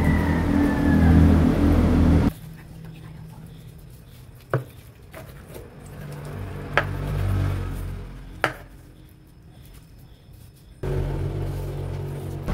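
A knife cuts through soft boiled beef tongue on a board, with a few sharp taps of the blade against the board over a quiet background and no speech.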